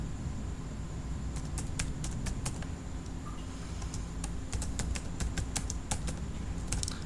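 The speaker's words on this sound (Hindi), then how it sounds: "इस तरीके से आप टाइप कर सकते हैं" Keys clatter on a computer keyboard while text is entered in Corel Draw X8, coming in several quick bursts of clicks with short pauses between them, close and moderately loud over a low room hum.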